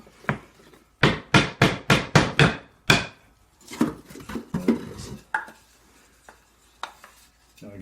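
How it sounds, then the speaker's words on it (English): Hammer tapping a frame part down during frame assembly: a quick run of about six sharp, close strikes, then a few scattered, softer knocks with quiet gaps between them. "I'm just using the hammer just to tap it down"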